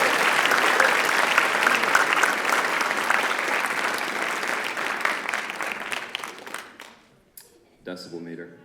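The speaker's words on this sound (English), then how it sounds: "Give them both a round of applause" Audience applause at a school writers expo competition, loud and sustained clapping filling most of the clip before tapering off near the end.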